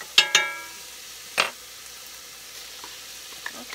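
Chopped onion for chicken gnocchi soup drops into a hot pot with sharp clinks of a spoon on the rim, then a faint steady sizzle with occasional light stirring scrapes, close and without voices.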